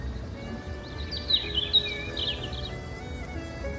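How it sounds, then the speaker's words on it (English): Birds warbling outdoors in the game Nikke, a few high chirps and short trills over a low, quiet ambient background, faint and brief. "The warbling of birds that were actually there, not some sound coming from a speaker"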